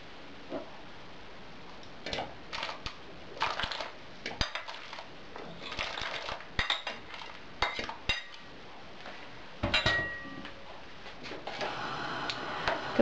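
Potato pieces dropped into a pot of cooking pearl barley soup, giving a string of sharp close clinks and knocks against metal at irregular intervals, with no talking.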